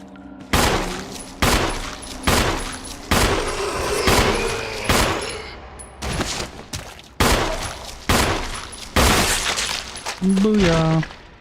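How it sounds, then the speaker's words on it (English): Hip-fire gunshots in Resident Evil 1, a series of about ten sharp, loud shots spaced roughly a second apart, each with a short ringing tail, with a voice speaking between them. "Call that a hip fire"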